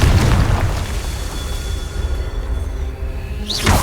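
A Confringo blasting spell goes off in Hogwarts Legacy, a loud booming explosion that opens the clip and rumbles on with a long low roar, ending in a second sharp burst and whoosh.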